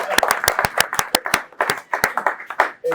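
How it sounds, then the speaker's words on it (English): An audience claps and applauds to welcome a guest at a class session; sharp, fairly close hand claps come in an uneven burst of many hits spread over three seconds, thinning toward the end. "please let's give a warm clap and applause for Andrew Powell, who's joined us."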